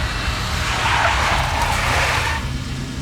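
A big black Mercedes skids in Max Payne, a loud, sustained tire squeal with engine roar lasting throughout, fading slightly at the end.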